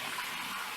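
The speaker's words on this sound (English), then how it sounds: "Put some water in it, wipe all around the edges again." Tap water running steadily into a kitchen sink during cleanup, a continuous bright hiss and splash with no breaks, fairly faint and close.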